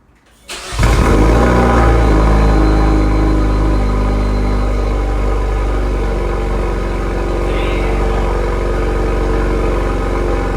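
A car engine fitted with a Sxth Element prototype exhaust cranks and fires up after a brief pause, then settles into a loud, deep, steady idle rumble up close.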